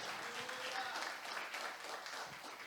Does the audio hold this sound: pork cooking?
no